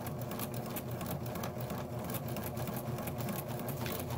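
A Pfaff 1475 CD sewing machine hums faintly at a steady, even pace as it starts stitching, with a soft continuous mechanical whir and no voices.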